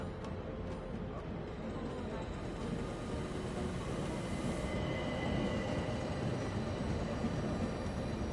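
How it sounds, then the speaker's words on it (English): Orient Express train running on rails, a steady low rumble of wheels and carriage with a faint high squeal, continuous and moderately quiet, like riding inside a carriage. "Now we can sit back and enjoy a relaxing train ride."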